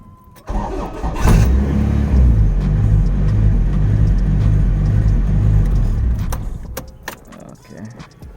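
A car engine catches on a restart, then idles with a steady low rumbling drone that sounds unusually quiet and a little off for about five seconds before dying away, with a short clatter and voices nearby.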